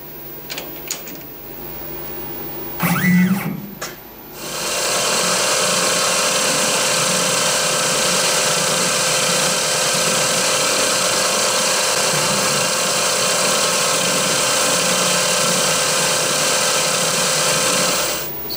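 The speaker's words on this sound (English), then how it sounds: "I'm using the CNC mill because I can accurately step off from this center point." A CNC mill drills holes in a small part for a steampunk backlit digital clock, with the chuck centred on the spindle. After a brief clunk the spindle settles into a loud, steady hum and whine that runs unbroken to the end, close by and with no speech.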